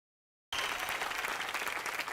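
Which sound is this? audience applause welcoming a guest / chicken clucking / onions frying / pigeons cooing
audience applause welcoming a guest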